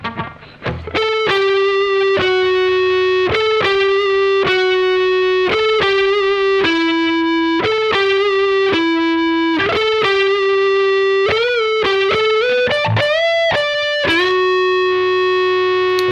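A heavily distorted electric guitar plays a lead break at a slow tempo, sustained singing notes and bends moving from pitch to pitch, loud and close, alone with no talking.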